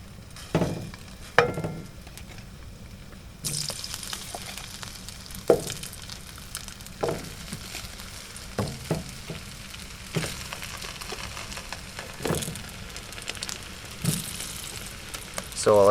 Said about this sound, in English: Let that pan come up to temperature and then drop the potatoes in.